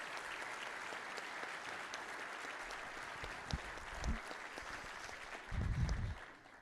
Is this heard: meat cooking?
no